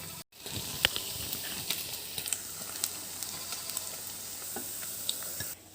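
Cubes of paneer fry in a pan with a continuous soft oil sizzle and occasional small pops and crackles, steady and close, with no one speaking.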